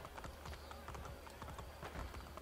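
Rhythmic clip-clop of horse hooves in the video game Assassin's Creed Brotherhood trots steadily under a constant background hum, moderately loud and evenly paced.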